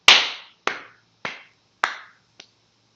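A single hand clap followed by four delay-effect repeats, each spaced about 0.6 seconds apart and each quieter than the last, the final echo faint and short.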